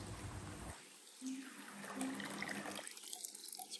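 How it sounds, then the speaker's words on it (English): Boiling water poured into a dish for a chicken tagine, a steady splashing pour that stops briefly and resumes, fairly close and moderately loud, with no talk over it. "we'll put about kind of 400 mils of boiling water into this"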